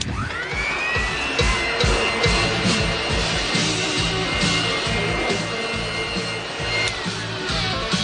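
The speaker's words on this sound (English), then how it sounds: "Excuse me while I hoover up the remains of Robin Houston." A vacuum cleaner drones loudly and continuously as a radio sound effect, a steady whine over a chugging, pulsing motor rhythm throughout, heard alone without talk.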